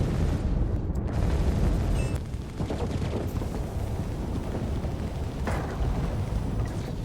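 Ship weapons in Star Citizen, fired from an Origin M80 at a Gladius, make loud booming bursts with a rumbling low-end roar and a few sharp impacts, continuous with no talk.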